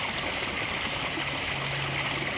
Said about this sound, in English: got another nice little waterfall here. Creek runs down that way.